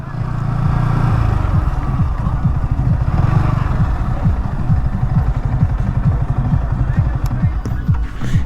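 A large crowd of motorcycles sits idling together, a dense, steady low engine rumble with uneven throbbing pulses that continues for the whole stretch, with voices faintly mixed in.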